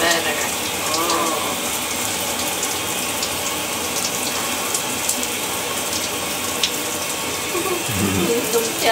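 Water running and splashing while a baby is bathed, a steady tap-like stream with some clatter, heard close under intermittent soft talking.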